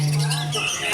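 A white-rumped shama (murai batu) sings at a bird contest, giving brief high chirping notes over a low steady hum in a single short burst.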